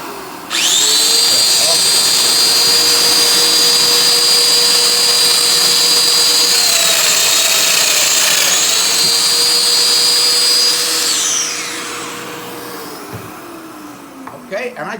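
A Festool Domino joiner hums at a steady high whine for about eleven seconds, then winds down and fades, leaving a few faint clicks near the end.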